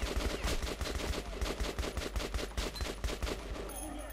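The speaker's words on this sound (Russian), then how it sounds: "автомат сам стреляет?" A rapid, steady automatic burst from an assault rifle in Metro 2033 Redux, dozens of sharp evenly spaced shots running for about four seconds, loud and close with no talking over it.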